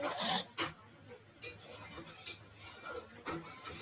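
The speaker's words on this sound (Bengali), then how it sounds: "চাপাটা খুলে এবার একটু নাড়িয়ে সারিয়ে নেবো" Egg curry being stirred in a pan just after the lid comes off, giving quiet scraping and rubbing with a few sharper clinks of utensil against metal, close and soft, with no talking.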